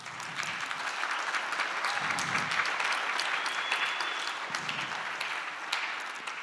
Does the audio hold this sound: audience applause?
yes